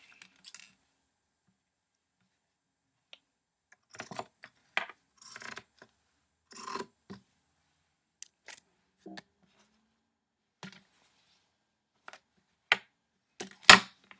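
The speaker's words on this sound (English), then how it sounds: "I'm going to show you what you can do with these little scrap pieces that I'm cutting out right now." Scissors cutting small fabric scrap pieces for a face mask: sparse, quiet snips and rustles spread irregularly over the stretch, a few sharper clicks toward the end, close by with no talk.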